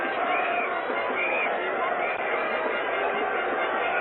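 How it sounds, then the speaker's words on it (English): A cricket crowd at Lord's pours onto the pitch after the 1975 World Cup final between West Indies and Australia, a steady roar of cheering, shouting and running feet filling the air continuously, with a commentator talking over it. "And the crowd gathering in there now, mobbing over the pitch."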